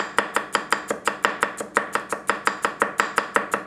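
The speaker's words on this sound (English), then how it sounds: "I was not supposed to chop these, but confetti carrots, there you go" Rapid, evenly spaced knife strokes, roughly four per second, strike a cutting board as carrots are chopped with a Tanaka Kurouchi 210mm gyuto. The crisp, close knocks repeat steadily with no talking.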